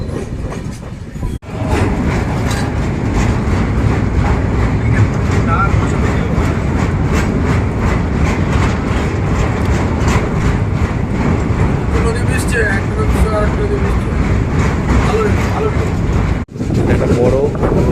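A Malwa Express passenger train runs between Katra and Jammu Tawi, heard as a loud, steady rumble and rattle of wheels on track from inside the train, with a brief dip near the start and end.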